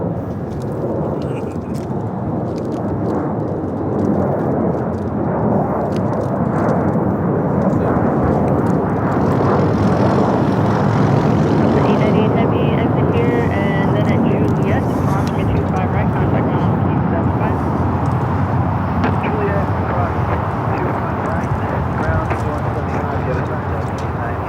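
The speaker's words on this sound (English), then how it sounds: "Just had a Delta 767 400 ER touchdown here on the south side." A Delta Boeing 767-400ER touches down on the south side of LAX, giving a loud sustained roar of engines and rumble that holds steady throughout, with a person talking over it.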